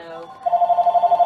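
An incoming call on a telephone sounds as a short electronic ring, a rapid pulsing warble repeating steadily and close after a brief lead-in of voice.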